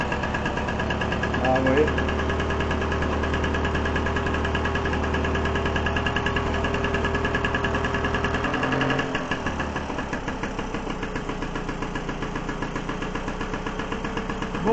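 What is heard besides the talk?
Solex 3800 moped engine running after 20 years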